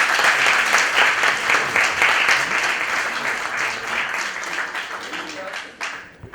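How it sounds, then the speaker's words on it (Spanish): An audience applauds in a steady, dense wash of clapping that stays loud throughout, then thins and fades out near the end. "Un aplauso."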